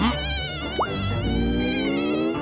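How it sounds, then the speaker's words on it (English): A cartoon mosquito whines steadily with a dense stack of buzzing harmonics for the whole span, loud and close, with a quick rising swoop partway through and a soft music bed underneath. "It's a mosquito."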